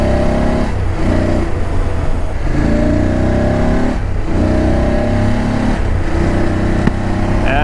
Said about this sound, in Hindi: ऐसे भागेगी बाइक अपनी भाई।